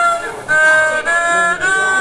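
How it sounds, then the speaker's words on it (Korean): Three sustained notes from a 25-string Korean gayageum ring out close and clear, each lingering briefly before the next string is struck. "악기는 가야금이고요"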